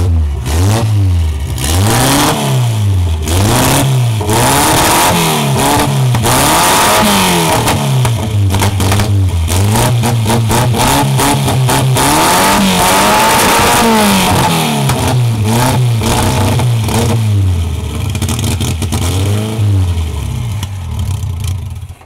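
A small Fiat 600 engine revs repeatedly, rising and falling in pitch in loud cyclic bursts with a rough clattering note, close up and nearly continuous for over twenty seconds.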